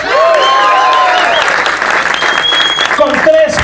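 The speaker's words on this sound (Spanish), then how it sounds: "Un aplauso a J-Loc." Crowd applause for a locking dancer named J-Loc at the Boogie Master 2015 dance event, loud, close and sustained clapping with cheering voices and whistles mixed in.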